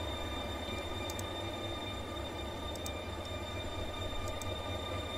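A ghostly train in the video game Darkside Detective rumbles steadily throughout, with a continuous low rolling drone and faint high metallic squeaks recurring at intervals.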